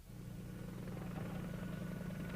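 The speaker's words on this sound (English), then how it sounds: "Apache attack helicopters swarmed forward, attacking Iraqi tank formations with their precision-guided Hellfire missiles." Apache attack helicopters in a combat setting, a steady throbbing rotor drone that stays loud and even throughout, with no talk.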